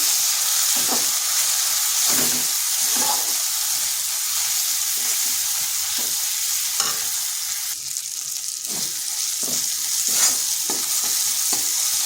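Spice paste with coriander powder and Kashmiri chili powder sautéed in a pan, loud continuous sizzling with a regular series of spatula scrapes and stirs through the whole stretch, close up.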